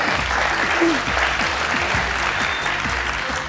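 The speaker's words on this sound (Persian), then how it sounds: "دوستا تشویقشون کنید." A studio audience claps for competing teams on a Persian-language Family Feud-style game show, a dense, sustained round of applause that stays loud and even throughout.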